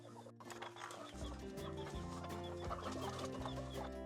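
Chickens cluck and murmur inside a coop, several birds close by making overlapping throaty calls and short rising clucks, with a low steady rumble underneath.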